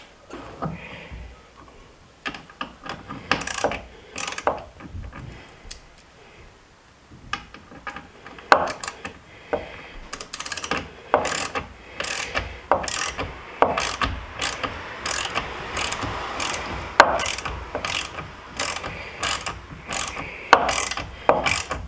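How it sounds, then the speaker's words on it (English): A ratchet wrench tightens bolts while installing a TruXedo Pro X15 bed cover on a 2021 Jeep Gladiator Rubicon, giving close, crisp clicking bursts in uneven runs, quicker and steadier toward the end, without talking. "And I can switch over to my wrench."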